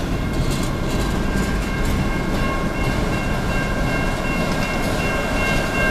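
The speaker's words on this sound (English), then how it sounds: "And the minute we get here, of course, it's a train in Newport." A train rumbles past steadily with a dense low roar and faint steady tonal whine, loud and continuous throughout, no voices; on Swan Creek Road in Newport, Michigan.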